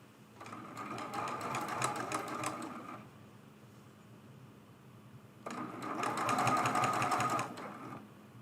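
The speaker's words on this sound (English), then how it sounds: "And we're sewing that one down." A sewing machine stitches a quilted table runner in two bursts of steady, rapid needle chatter, close and loud, with a pause of quieter hum between them.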